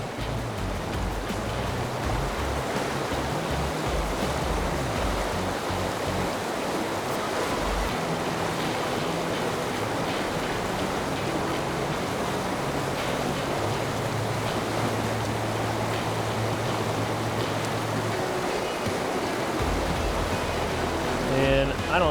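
Broad steady rush of white water in a shallow pocketwater stream, continuous and fairly loud, with wind buffeting the microphone and a low rumble throughout.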